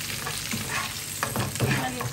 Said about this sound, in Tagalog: Nauna yung itlog ko sa prito.